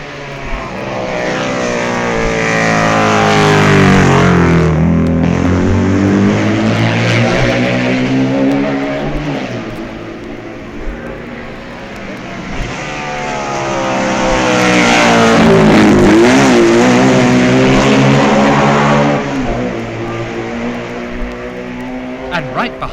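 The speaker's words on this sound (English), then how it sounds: "And here already at Balaf Bridge, 16 miles out, are the BMWs of Camathius and Scheidegger." 1965 Isle of Man TT BMW racing machines roar past in two loud waves, each engine note swelling as it nears and falling in pitch as it moves away, with a quieter lull between the passes.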